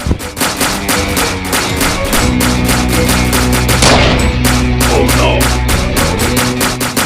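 Dense, rapid bursts of gunfire crackle almost continuously over a pounding low rhythmic backdrop, loud and close, with no talk.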